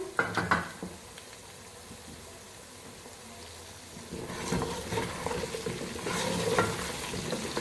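Chicken and onions for a chicken chana pulao sizzle in a pan, with a spoon scraping and stirring, faint at first and then louder and busier in the second half.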